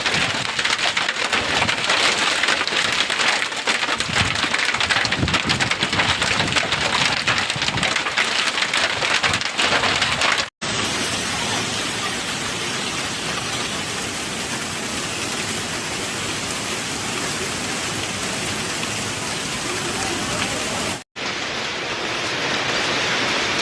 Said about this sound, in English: Vehicles parked outdoors were repeatedly struck by the hail, producing loud cracking sounds.